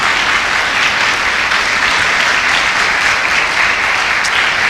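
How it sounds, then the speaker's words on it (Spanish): A church congregation applauds loudly during a Spanish-language sermon, a dense, continuous wash of clapping from many hands that stays even and strong throughout. "Dele un aplauso al Señor esta mañana."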